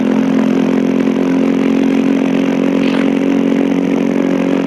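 A motorcycle engine runs close by at a steady, loud drone, with a faint rise in pitch partway through. No talking is heard.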